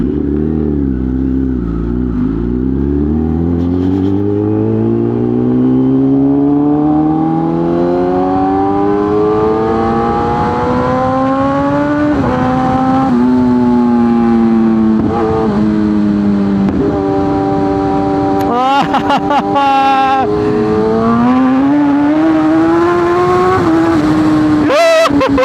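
A Kawasaki ZX10R motorcycle accelerates hard along Mall Road in Lahore, its engine note climbing through rising revs, dipping at gear changes and pulling up again, loud and close for a long stretch.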